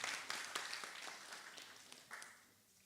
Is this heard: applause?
yes